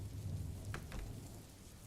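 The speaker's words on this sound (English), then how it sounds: "The sounds of raindrops crashing to the earth in my house never end." Steady rain falls on a house, a dense broadband patter running throughout at a constant level, with a couple of faint brief bursts standing out over the low rumble.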